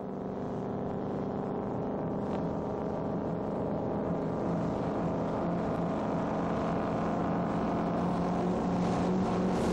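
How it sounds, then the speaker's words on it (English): A hydroplane racing boat skims across the water with a steady, loud engine roar throughout, its drone holding even with slight surges and no voices. "Boats like this, called hydroplanes, skim across the surface of the water."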